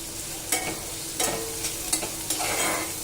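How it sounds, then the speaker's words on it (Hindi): Onion and green chilli fry in a pan with whole cumin seeds. A spatula scrapes in a few distinct strokes over a soft, steady sizzle, and no one speaks. "इसमें हरी मिर्च और प्याज को फ्राई कर लेते हैं। प्याज को ब्राउन होने तक फ्राई करेंगे।"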